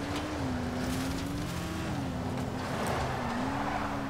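Game car engine in Dying Light, a vehicle with worn brakes and low fuel, holding a steady mid-pitched drone that rises and dips with throttle changes, loud and continuous with no talking.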